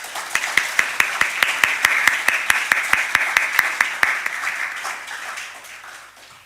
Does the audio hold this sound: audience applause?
yes